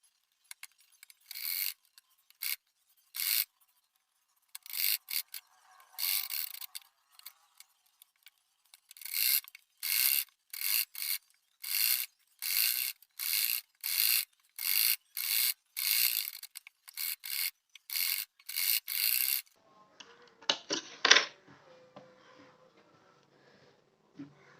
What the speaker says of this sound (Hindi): तो चलिए फिर हम एक फिनिशिंग की सिलाई लगा लेते हैं।